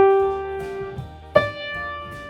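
Two sustained musical notes sounded one after the other as a melodic interval, the second note entering with a clear attack partway through, played alone and moderately loud.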